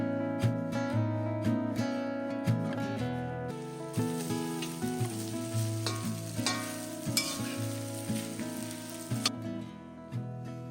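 Fried rice seasoned with paprika, salt, pepper and dried dandelion leaves sizzles steadily in a pan, with stirring scrapes and a loud, tonal musical bed running underneath throughout.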